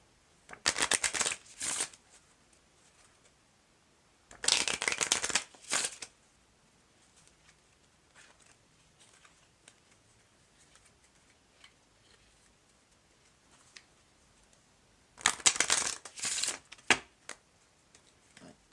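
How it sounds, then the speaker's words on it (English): Three separate bursts of rapid riffling as a deck of playing cards is shuffled for a tarot reading, with quiet pauses in between and no talking. "Shuffle the playing card deck."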